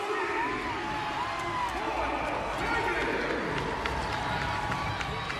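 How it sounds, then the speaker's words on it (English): Loud indoor arena crowd at a Georgia vs LSU NCAA women's volleyball match roaring and cheering, a continuous wash of voices with shouts and sneaker squeaks throughout. "You can hear the crowd going, getting in action."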